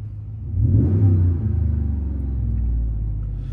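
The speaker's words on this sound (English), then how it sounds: "It's idling down now." A car engine with a Flowmaster Signature Series aftermarket exhaust, deep and throaty, briefly swells, then settles into a steady low idle burble, close by.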